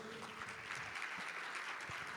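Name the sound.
applause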